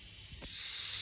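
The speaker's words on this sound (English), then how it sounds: "Apply some adhesion promoter on these parts too" An aerosol spray of adhesion promoter is applied to plastic parts before painting, a steady soft hiss that builds and holds for about a second, close and unbroken, with no talking.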